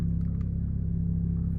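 A 2023 Ford F150 Raptor idling in a closed garage, a steady low rumbling engine drone with an even pulsing throb, close and continuous for the whole moment.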